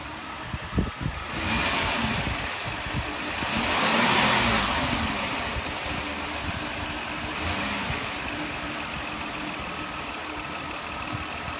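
A car engine idles steadily during a hands-on auto maintenance check, with a slight swell in revs partway through and a constant mid-pitched hum throughout, heard alone without talk.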